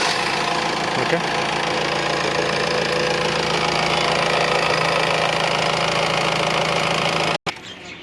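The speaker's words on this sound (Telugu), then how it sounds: "సార్ ఇంజిన్ స్టార్ట్ చేస్తున్నాను చూడండి" A 2016 Honda Mobilio engine idles steadily with a continuous low hum and vibration close by, a brief voice heard once, before the sound cuts out near the end.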